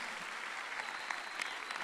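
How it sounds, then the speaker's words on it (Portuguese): A church congregation claps steadily in a brief, dense burst of applause that fills the room at moderate volume, with no voice above it. "Vamos aplaudi-los, por favor."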